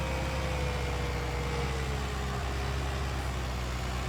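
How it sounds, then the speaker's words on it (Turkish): A tractor engine in a farming video game runs steadily at a low idle, with a continuous heavy rumble and faint whine, heard alone and at constant level. "traktör çok güzel ya"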